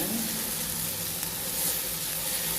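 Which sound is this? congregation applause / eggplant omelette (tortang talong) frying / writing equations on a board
eggplant omelette (tortang talong) frying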